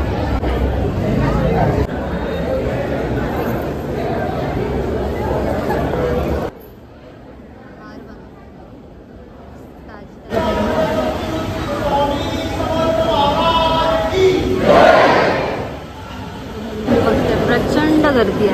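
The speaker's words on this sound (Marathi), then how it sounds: "प्रचंड गर्दी आहे" A huge crowd at the Swami Samarth math in Bhuigaon fills the air with steady, dense chatter and shuffling. It briefly drops to a quieter stretch before swelling again, and a nearby voice talks over it.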